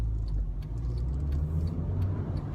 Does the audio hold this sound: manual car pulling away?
yes